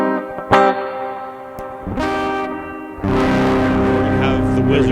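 A voice sounds through a PA system with a reverb pedal, loud and drawn out, smeared by heavy reverb, echo and a distorted, chorus-like wash that swells toward the end.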